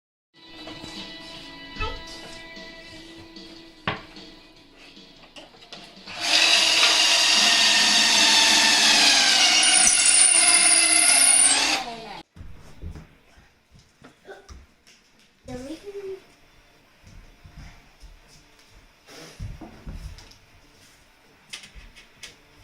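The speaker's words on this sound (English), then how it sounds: "I'm only using the finish nailer to help hold it in the right spot, and then I'm coming back and doing screws into the studs" A power tool drives screws into wall studs while a walk-in closet is built, a loud steady whir of about six seconds, with scattered clicks, knocks and brief talk before and after it.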